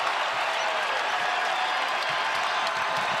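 A basketball arena crowd roars and applauds at full volume, a dense, unbroken wall of cheering that stays loud from start to finish during a Bradley Braves at Illinois State Redbirds game.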